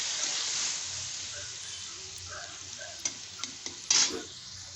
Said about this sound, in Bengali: এবার একটু নাড়িয়ে নেব যাতে মাছের গায়ে পুরো মশলাটাই লেগে যায়।